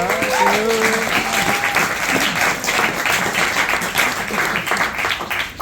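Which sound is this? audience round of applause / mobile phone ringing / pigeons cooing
audience round of applause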